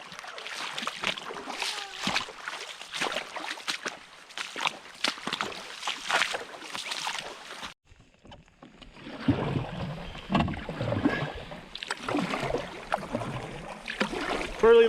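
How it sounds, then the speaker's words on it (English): A canoe paddled across a long lake on a high-water fishing and camping trip, with rhythmic paddle strokes and water swishing close by, a short lull midway, then renewed splashing against light wind. "We've been paddling for at least an hour."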